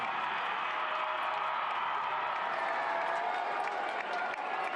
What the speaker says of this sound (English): as the crowd is really getting up now for Andrew Tenari